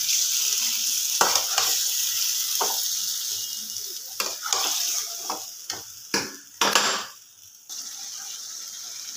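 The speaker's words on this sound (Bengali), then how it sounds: "ভালোভাবে নাড়তে হবে।" Chicken frying in a pan over lowered heat while being stirred, a continuous sizzle broken by repeated spatula scrapes and knocks against the pan, close and clear with no speech.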